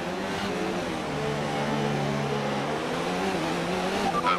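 F1 race car from F1 2019 pulling away from the grid, a steady engine drone whose tone climbs gradually through the gears, fairly loud and continuous.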